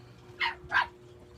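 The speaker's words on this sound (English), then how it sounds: "Well, dogs are barking at me," Two short, high dog barks in quick succession, fairly faint and at a distance, over a quiet steady hum.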